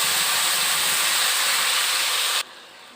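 Sugar, cumin, cardamom, dried chili and bay leaf frying in a pan for a Bengali curry, a loud, continuous, close sizzle that drops off sharply near the end, with no talk.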